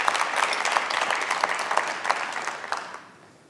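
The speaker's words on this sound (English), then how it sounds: "we want to give her a round of applause right now" Audience at a Black History Month diversity celebration gives a round of applause for an award recipient, a full, dense burst of many hands clapping that holds steady and then fades out near the end.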